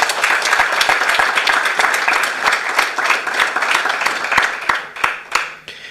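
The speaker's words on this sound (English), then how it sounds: "please join me in giving a massive round of applause to yourself and everybody in this room" An audience at the annual ANAPRI stakeholder conference gives a round of applause. Dense, steady clapping fills the room, then thins into scattered individual claps before fading out.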